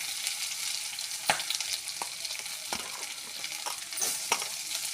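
Onions sizzle in a pan with ginger-garlic paste, green chillies, curry leaves, mint, coriander, cinnamon and cloves for tomato rice, a steady hiss broken by sharp scraping clicks of stirring every second or so.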